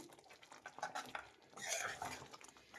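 Coriander leaves stirred into paneer masala gravy in a pan, a quiet scraping of a spoon against the metal pot with soft clinks and wet patter, close and unhurried.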